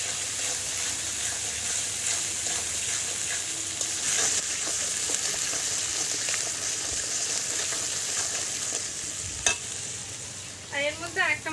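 Spice masala for a picnic meat curry frying and being stirred, a steady close sizzle with regular scraping strokes, a sharper clank near the end and a few rattling squeaks trailing off.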